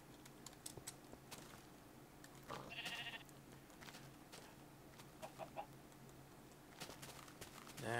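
Sheep in the Minecraft video game give a few faint, brief bleats over quiet game ambience, with one clearer call near the middle and no talking.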